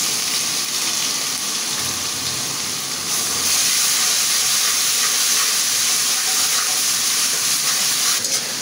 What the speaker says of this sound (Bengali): আদা রসুনটা আমি ভালো করে কষিয়ে নেব যাতে কাঁচা গন্ধটা চলে যায়